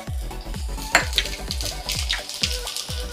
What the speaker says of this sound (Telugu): ఇప్పుడు ఇందులోకి స్లైస్ చేసుకున్న గార్లిక్ వేస్తున్నాం.